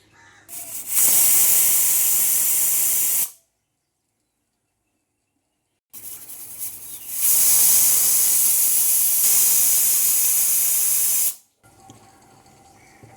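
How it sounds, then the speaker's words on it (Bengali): A pressure cooker full of saag lets off steam in two long, loud, hissing whistle blasts, each lasting a few seconds. A dead silent gap separates them, and the hiss cuts off sharply at the end. "এইভাবেই প্রেসার কুকারে পরপর 3টে সিটি নিয়ে নিয়েছি।"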